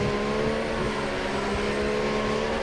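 Race car engine at the Belgian Grand Prix in a mobile racing game career mode, a steady droning whine with layered harmonics through a chicane, loud and close with no talk.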